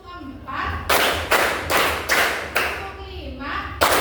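Students in a classroom clap in unison through a counted concentration routine, five or six loud, closely spaced group claps in steady rhythm, with a teacher speaking in the gaps.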